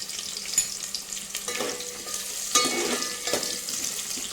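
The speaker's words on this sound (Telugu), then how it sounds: "ఇప్పుడు మనం ముందుగా కట్ చేసి పెట్టుకున్న ఆనియన్స్ వేసేసుకొని దూరగా వేగేటట్టు వేయించుకుందాం" Chopped onions drop into hot oil and fry with a loud, continuous sizzle, broken by a few stirring scrapes against the pan, with no one talking.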